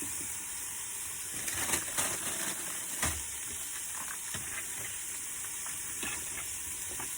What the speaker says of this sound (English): So I'm just going to put handfuls of that in and just toss it off a little bit